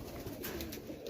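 A tippler pigeon among highflyer birds gives a short, muffled coo close by over faint background hiss.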